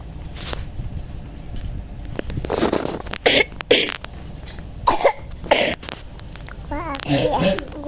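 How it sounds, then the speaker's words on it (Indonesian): Several sharp coughs burst out at irregular intervals among nearby talking and babbling voices indoors. "Maaf ya, aku batuk."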